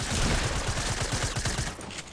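Rapid gunfire from a Fortnite match, a dense run of sharp evenly spaced shots lasting about two seconds, loud and close, easing slightly near the end.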